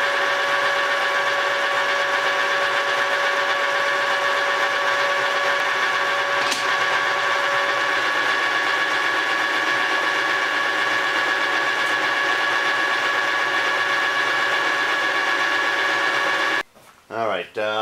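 A steady mechanical hum with sustained tonal whine runs throughout as a lathe turns metal, ending in a brief burst of voice at the close.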